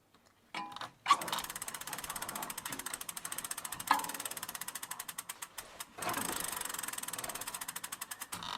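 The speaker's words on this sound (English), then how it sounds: "Wheel isn't spinning as freely as I would have liked." Bicycle freewheel ratchet clicking in a fast, even train as the wheel spins, close and fairly quiet, slowing gradually before the wheel is spun again with a fresh burst of clicks.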